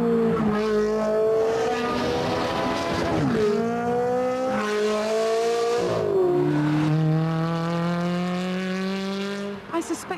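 Ferrari 360 Challenge Stradale driven hard through hills, its high-pitched engine and sports exhaust climbing through the gears with clear shifts, loud and close, then fading at the end.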